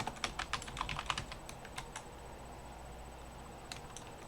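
Keystrokes on a computer keyboard while playing VIM Adventures: a quick burst of about a dozen light clicks, then a few scattered taps after a pause, faint and close with no talk.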